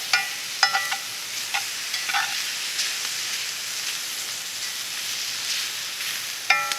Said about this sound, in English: Go ahead and break these cubes up a little bit. Get that stirred around nice.